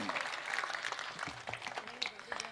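Audience clapping at a live Hindi comedy show, a short, fairly light patter of applause with a voice speaking over it.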